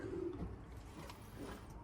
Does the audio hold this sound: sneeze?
no